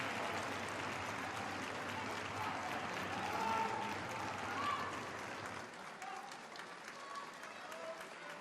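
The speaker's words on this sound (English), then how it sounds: "there's a scatter of applause around the stadium." Scattered applause ripples around a stadium at a women's football match, a steady distant wash of clapping that thins out toward the end.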